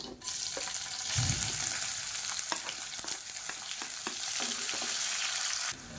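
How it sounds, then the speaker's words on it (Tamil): Sliced onion fries in hot oil with curry leaves, giving a steady loud sizzle with occasional stirring clicks throughout. "மீடியம் சைஸாக ஒரு பெரிய வெங்காயம் நீளமாக நறுக்குனதை சேர்த்துக்கலாம்."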